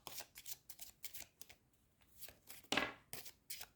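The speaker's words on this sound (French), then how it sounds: "Je vais mélanger mon deck de base." A deck of playing cards for a solo tabletop game is shuffled close up in a quick run of crisp riffles and soft slaps, with brief pauses between bursts.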